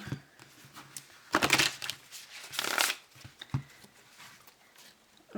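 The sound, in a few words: shuffling a deck of cards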